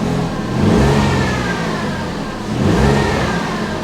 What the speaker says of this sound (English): Revs fine.